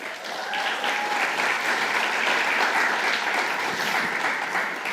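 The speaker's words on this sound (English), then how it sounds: "Jimbo Davis is next. Give him a hand." Steady applause from an audience at a college athletics hall of fame induction ceremony, sustained and even for about five seconds with no talking over it.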